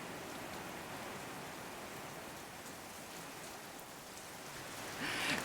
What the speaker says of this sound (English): Tropical rain